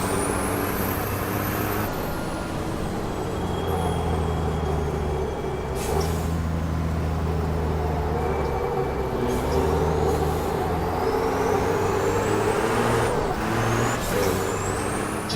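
A racing truck in the Formula Truck 2013 game drives at speed with a steady loud engine drone, a long continuous roar whose pitch shifts as gears and throttle change, with a couple of brief hissing bursts like air brakes.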